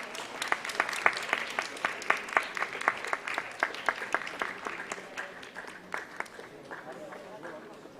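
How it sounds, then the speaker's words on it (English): An audience at an eye donation awareness event applauds award recipients seated among them, a moderate run of clapping with distinct individual claps, fairly distant. "give them a huge round of applause"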